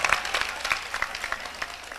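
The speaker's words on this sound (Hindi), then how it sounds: "तालियों से इस्तेकबाल करते हैं खूबसूरत शेर का" Audience applause at a ghazal poetry gathering, a short burst of many hands clapping in a dense patter, fairly close and unaccompanied by talk.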